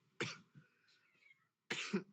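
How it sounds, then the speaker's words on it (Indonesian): Two harsh coughs, close and fairly quiet, separated by a short pause with faint murmuring between them. "aduh batuk."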